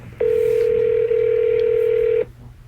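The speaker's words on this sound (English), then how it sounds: "Oh, we got disconnected." A loud, steady telephone line tone sounds for about two seconds after a phone call drops. It then cuts off abruptly into quiet line hiss.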